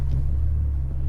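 Aston Martin DB7 V12 Vantage Volante with the optional sports exhaust, heard from inside as a loud, steady low engine rumble with a deep droning tone and no talk over it.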